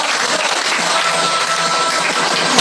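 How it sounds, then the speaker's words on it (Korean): Audience applause at a fashion show presenting underwear and shapewear, a loud, steady wash of many people clapping that holds through the whole moment. "다시 한번 박수 부탁드리겠습니다."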